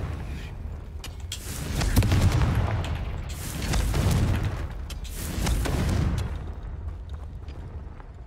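Repeated Confringo blasting spells firing in Hogwarts Legacy, heavy booming bursts swelling at intervals over a low rumbling game soundscape, loud and close with no talking.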